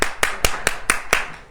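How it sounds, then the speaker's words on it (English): A church congregation claps in unison, seven sharp, evenly spaced hand claps at a brisk steady beat, close and clear with no talking. "Everybody clap your hands."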